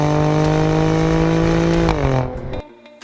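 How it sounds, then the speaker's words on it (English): A turbocharged 2-liter four-cylinder in a compact luxury SUV pulls hard with a loud, raspy exhaust note, rising steadily, then easing off and fading out abruptly near the end. "its gutsy acceleration and raspy exhaust note appeals to anyone."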